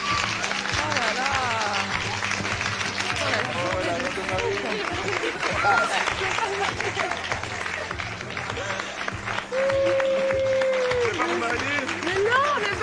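Studio audience applause on a French TV hypnosis show, a steady dense clapping wash filling the whole stretch, with a host's voice and crowd murmurs running over it.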